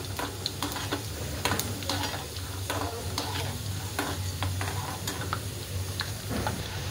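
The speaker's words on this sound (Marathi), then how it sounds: "आपण हे पहिले सुरुवातीला शेंगदाणे टाकून घेऊया, छान असं खरपूस भाजून घेऊया" Peanuts roasting in a hot pan for thin poha chivda, stirred continuously: a steady dry rattle and sizzle with repeated sharp scraping ticks from the spatula, close and fairly loud, with no talking.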